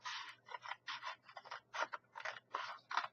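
Scissors cutting card for a handmade candy and gift card box, a steady run of about eleven crisp, close snips in an even rhythm, heard alone in a quiet room.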